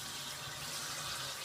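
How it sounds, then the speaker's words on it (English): Cold water runs from a kitchen tap over tomatoes, a soft, steady splashing wash heard faintly and continuously with no voices. "so we're in some cold water over the tomatoes"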